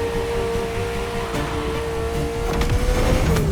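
A Ferrari sports car engine from The Crew Motorfest holds a steady, droning tone near at hand, with a slight rise in intensity toward the end and no talk.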